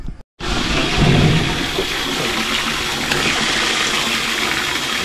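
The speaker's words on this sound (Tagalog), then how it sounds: "Gara ng tubig, no?" Water rushes in a loud, steady, unbroken wash, as if pouring or spilling with force, starting abruptly after a brief silence and holding at full strength until the end.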